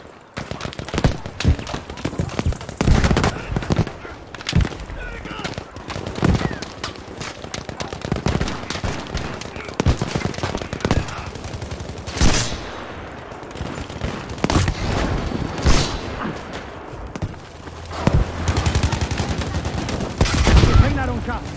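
A Breda M1935 PG machine gun fires in the game Battlefield 5, with rapid bursts of sharp gunshots repeating throughout amid other battlefield shots, loud and close, with occasional voices.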